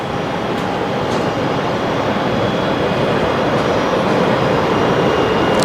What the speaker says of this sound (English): And there's the Qantas 73 to Perth, just lining up.